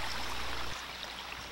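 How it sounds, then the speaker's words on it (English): Steady broadband rush of river water heard while drifting downstream on the Jama River, a continuous close wash with a low rumbling undertone. "You can tell we're drifting down the river at a good fast clip."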